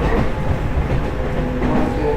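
A train roars through a long tunnel in Yamagata, a loud, dense, steady rumble with rhythmic rail clatter throughout.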